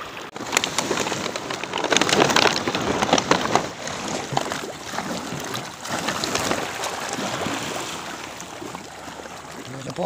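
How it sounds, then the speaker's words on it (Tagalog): A whole river flows past in a continuous splashing rush, close and fairly loud, swelling and easing slightly as it goes. "Yung buong ilog na ito."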